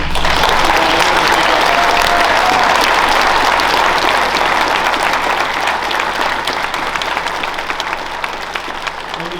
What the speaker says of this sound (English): So I want to clap for all our veterans that came here today.